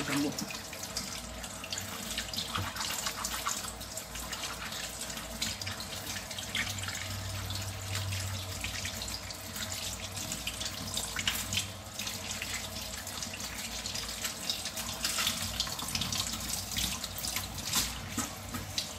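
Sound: washing bilimbi (kamyas) under running tap water

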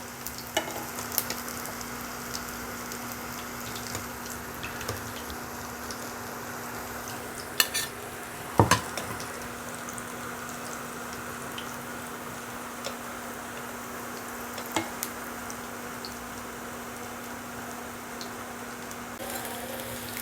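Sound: vegetables frying in a pan

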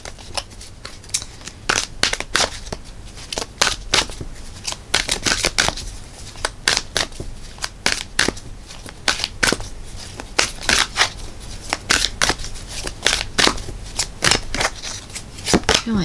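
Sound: tarot cards being shuffled

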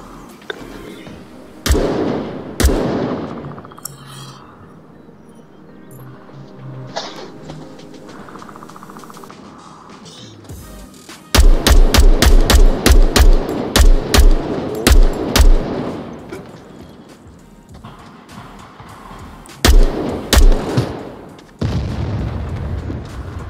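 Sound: gunfire in the video game Onward

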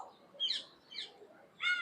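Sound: pigeons inside a cave

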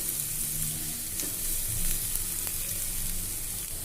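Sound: onions with salt sautéing in a pan

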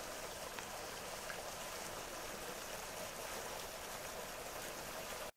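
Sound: water trickling along a hiking trail

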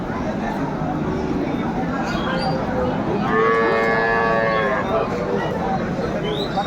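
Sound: cows and calves mooing at a cattle market

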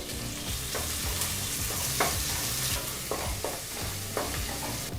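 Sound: chopped onions frying on medium flame

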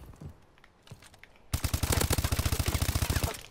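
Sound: Battle 27 gun firing in a video game

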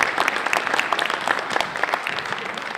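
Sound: audience applause after a conference speech

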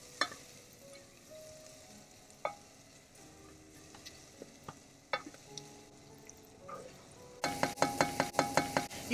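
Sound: onions frying in sizzling butter

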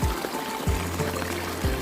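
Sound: water flowing

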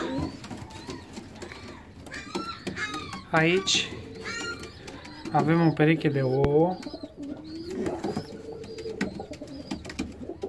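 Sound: fancy pigeons cooing in an aviary

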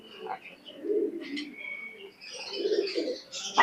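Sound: teddy pigeons cooing

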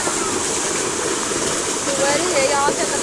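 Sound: tube well water flowing

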